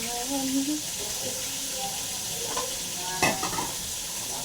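Food sizzles and crackles while frying in a pan over a wood fire, with steady hissing, a few clinks of stirring and a brief louder clatter near the end, under faint singing.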